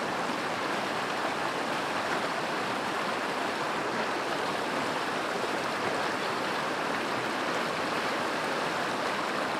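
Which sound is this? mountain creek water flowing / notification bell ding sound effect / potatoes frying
mountain creek water flowing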